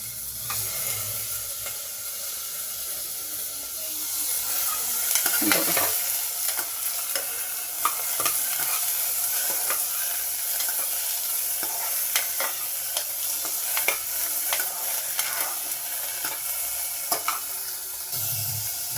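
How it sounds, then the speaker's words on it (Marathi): Paneer sautéing in a hot pan gives a steady sizzle with frying hiss, and stirring sounds come and go. "यानंतर आपण थोडेसे हे जे पनीर आहे याला आपण सौते होण्यासाठी ठेवून देऊया"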